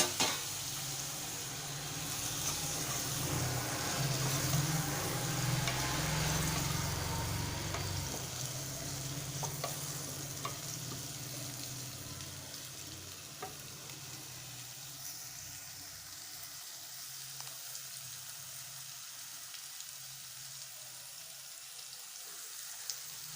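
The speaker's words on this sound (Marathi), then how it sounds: "यानंतर यात वालाच्या शेंगा आणि चवळीचे दाणे जे आपण घेतले होते ते पण यात टाकून सर्व भाज्या व्यवस्थित मिक्स करून घ्यायच्या" Mixed vegetables, broad bean pods and cowpeas for a Bhogi bhaji sizzle in a pan while being stirred. A steady, busy frying hiss is loudest early and gradually softens, with occasional scraping.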